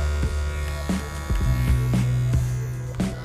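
An Andis Supreme Cordless Envy Li hair clipper runs with a fresh blade, a loud, steady close-up buzzing hum with periodic clicks and rattles as it is handled.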